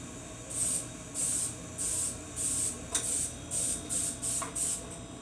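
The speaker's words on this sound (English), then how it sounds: "I'm going to give this a quick spritz." Pam original cooking spray misted into a 13x9 baking pan in a run of short hissing bursts, about eight spritzes in quick succession, close and fairly quiet.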